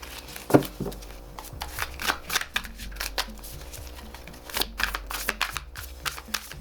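Tarot cards riffle and slap as the deck is shuffled and single cards are drawn and laid down, a close series of irregular crisp snaps and flutters with almost no speech.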